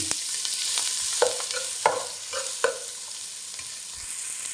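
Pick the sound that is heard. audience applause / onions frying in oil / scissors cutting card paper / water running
onions frying in oil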